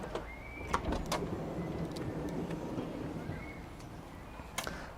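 Rear electric sliding door on a Honda N-Box Custom kei car opening after a button press: a soft motorised whirr with a few clicks and latch clunks, close and fairly quiet.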